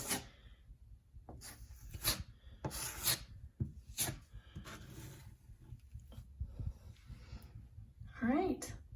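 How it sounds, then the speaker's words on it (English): Spackle is spread over a drywall patch on a wall with a putty knife, giving repeated short scraping strokes, close and fairly quiet, in irregular passes with soft pauses between them and a voice heard in the background. "Okay, I've put some spackle on there. Now I just need to spread it out."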